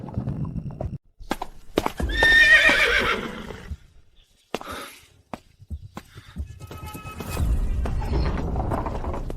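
A horse pulls a carriage, its hooves clip-clopping in bursts alongside a loud whinny and snorting, with rattles and thumps between, close and busy, then a low rumbling stretch toward the end.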